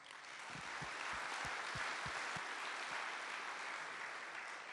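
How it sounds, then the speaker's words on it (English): An audience at a panel event on the Vietnam War breaks into sustained applause, a steady wash of many hands clapping, moderately distant and even, with a few sharper nearby claps at the start. "So if you'll join me in giving them a round of applause."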